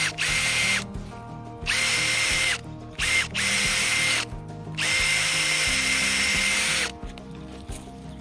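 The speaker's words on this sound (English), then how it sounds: "You basically just drill the hole with the bulb auger" A power drill driving a bulb auger into garden soil whirs in several bursts, starting and stopping repeatedly with short pauses between runs, close and loud.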